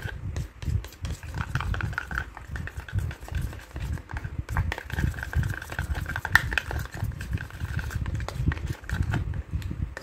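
Hair oil and hair fertiliser are stirred and mixed together, a continuous wet, squelching churn with rapid irregular sloshing strokes, close and fairly loud throughout.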